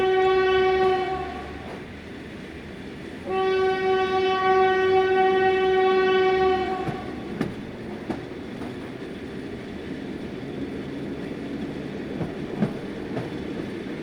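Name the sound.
train departing, sound effect in horror story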